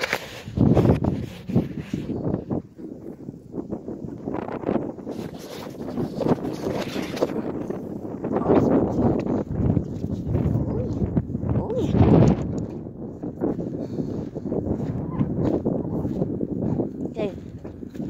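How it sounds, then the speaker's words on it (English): Strong wind at sunset buffets the microphone in a continuous, loud, rumbling roar that swells and dips throughout, with voices partly buried beneath it. "it's way too windy"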